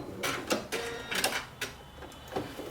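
A sewing machine stitches a tiered dress in short, close bursts of rapid mechanical whirring and clatter, starting and stopping at irregular intervals.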